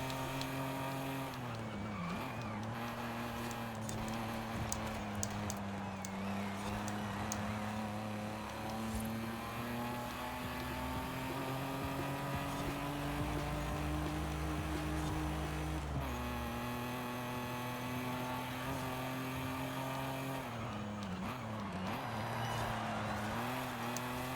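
A 1995 BMW M5 driven on laps in Forza Horizon 5 revs hard with rising and falling engine tones through gear shifts, tires squealing as it slides, loud and continuous.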